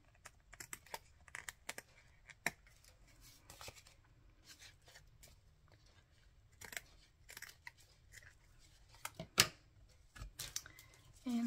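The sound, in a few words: scissors trimming paper for a junk journal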